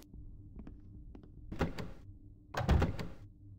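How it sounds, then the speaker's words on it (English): A door opens in the stealth video game The Dark Mod, with a few faint clicks of the latch followed by two louder creaking, scraping swings, close by and without talk. "I really shouldn't be opening these doors recklessly."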